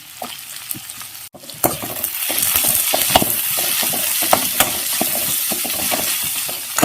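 Onions fry in a pan for poori potato masala, a loud continuous sizzle with frequent scraping and clinking strokes of a spoon stirring close by, and no voices.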